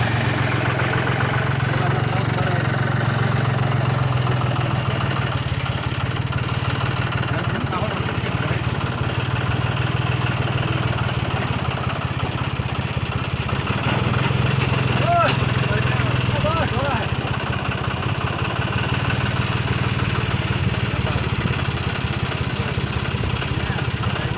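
John Deere tractor engine running steadily on a farm, a constant low rumbling drone lasting throughout at close range, with indistinct voices faintly under it.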